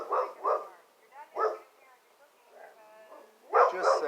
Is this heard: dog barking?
yes